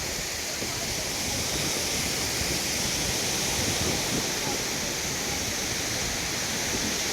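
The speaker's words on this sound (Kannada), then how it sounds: "ಸೊ ಹೊನ್ನಮ್ಮ ದೇವಿ ಜಲಪಾತಕ್ಕೆ ಆಗಮಿಸಿದ್ದೀನಿ ಬಂಧುಗಳೇ" Honnamma Devi waterfall in Chikmagalur roaring as a dense, steady rush of falling water, loud and unbroken throughout.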